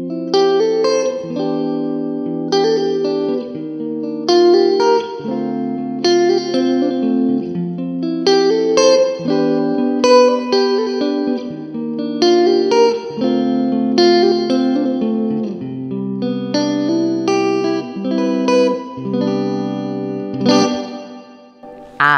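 Electric guitar played through an Orange Crush Pro 60 amp with its plate reverb engaged: a steady, loud riff of ringing chords with a lush reverb tail, played alone without speech.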